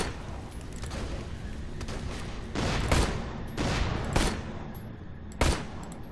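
Distant gunfire rattles in Borderlands: The Pre-Sequel, a series of sharp bursts and single shots spaced irregularly over a few seconds, fairly faint against a steady background of game ambience.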